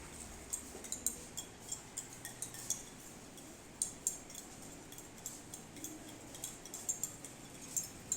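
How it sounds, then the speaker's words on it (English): A glass rod or spoon stirring a copper sulfate solution in a glass beaker while preparing artificial silk, with faint, light clinks repeating at a steady pace against a quiet background. "And stir well."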